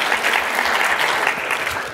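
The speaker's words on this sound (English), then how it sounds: "So I think round of applause for them." Audience applause at a synthetic biology conference, a dense, steady wash of many hands clapping throughout, close and fairly loud with no voices over it.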